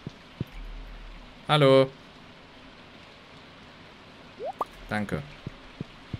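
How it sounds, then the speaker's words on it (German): Rain in the video game Stardew Valley, a soft, steady hiss with faint drips running underneath, while a voice speaks briefly twice and a few small game clicks pop through. "Oh, es regnet."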